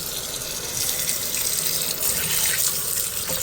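Tap water runs steadily over goat meat being washed in a sink, a constant close rushing splash with no pauses or voices.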